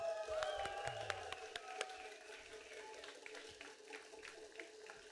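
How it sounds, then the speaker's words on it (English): An audience at a TEDx talk about group drumming gives a brief round of applause: a few crisp claps early on that quickly thin out, faint and distant, over a soft sustained tonal hum. "Round of applause"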